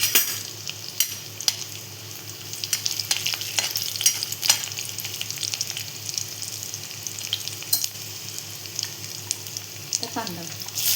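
Cumin seeds and finely chopped garlic sizzle in hot oil in a kadhai, a steady broadband frying hiss broken by sharp clicks of a spoon stirring against the pan, with a brief tonal voice-like sound near the end.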